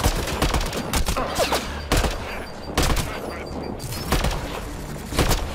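Gunshots crack in repeated sharp bursts over a loud, busy background, with a few heavier blasts standing out, in the video game Mass Effect: Andromeda.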